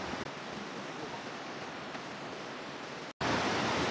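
Heavy rain pours steadily at a riverside campsite with a glamping tent, a dense, even hiss that fills the scene, briefly cutting out before returning slightly louder.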